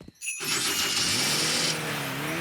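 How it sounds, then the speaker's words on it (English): A cartoon fairy car's engine starts up as if on a cold day, a short cough followed by a steady, loud, continuous engine hum that holds to the end, with no talking over it. "It sounds like the fairy car on a cold day"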